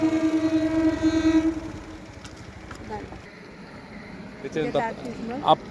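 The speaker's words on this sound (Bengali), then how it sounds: "আপ তারকেশ্বর লোকাল যাচ্ছে, দেখতে পাচ্ছেন।" An up Tarakeswar local train rolls past at 6:10 in the morning near a railway overbridge on the Tarakeswar line, a loud steady rumble and clatter for about the first second and a half, fading under road traffic noise.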